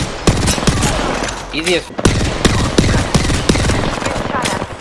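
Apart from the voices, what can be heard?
gunfire in the video game Apex Legends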